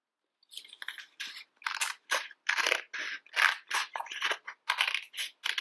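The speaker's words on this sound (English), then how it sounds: "Then I cut a half heart." Scissors snip through folded paper to cut out a half heart, about a dozen short crisp crunching cuts in an uneven rhythm, close and quiet against silence.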